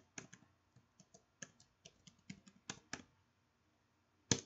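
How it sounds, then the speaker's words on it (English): Hashtag being typed on a computer keyboard: a run of sharp, irregular key clicks close by, a few quick bursts and pauses, ending with one louder keystroke, with no talking. "I can counterbalance that with a simple hashtag. And I'm typing it right now."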